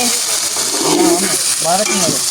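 Food fries in hot oil in a pan while being stirred, making a loud, close, continuous sizzle with scraping stir noises, cooked for a family birthday meal. Faint voices are heard underneath.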